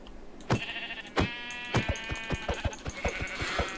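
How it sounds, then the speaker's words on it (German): Several sheep in the Minecraft video game bleat in a row, with sharp clicking block and footstep sounds ticking steadily underneath and no talking. "So, jetzt hat man hier natürlich viele Schafe."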